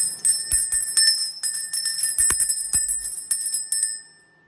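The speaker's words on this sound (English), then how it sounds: "now we're gonna ring the bell" A bell rings repeatedly in a bright, metallic run of strikes with sustained ringing tones, then fades out, with no talking.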